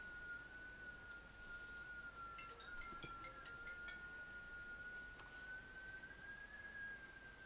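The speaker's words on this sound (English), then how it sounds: "Apologies for the whistling sound, it's my window." A thin, steady high whistle of wind through a window gap runs the whole time, drifting slightly in pitch, with faint clicks in the background.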